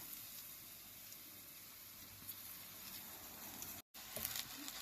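Zucchini pancakes frying in a pan, a soft continuous sizzle and patter of oil heard fairly close, with a brief dropout and a few louder crackles toward the end, no talk.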